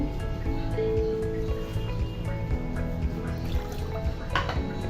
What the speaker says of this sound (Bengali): দিয়ে দিচ্ছি মেজারমেন্ট কাপের দেড় কাপ পানি